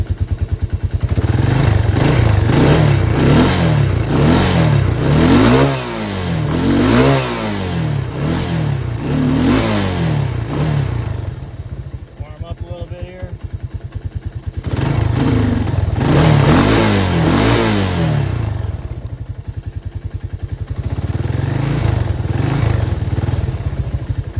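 A Yamaha YTM225 ATV engine fitted with a 30mm Mikuni carburetor runs close and loud, its throttle blipped into several revving surges that drop back to a clattering idle, with no speech.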